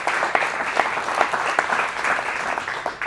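An audience at a talk honoring Dr. Howard E. Gendelman gives a round of applause. It is a dense, steady clatter of many hands clapping, fairly loud and uninterrupted for about three seconds.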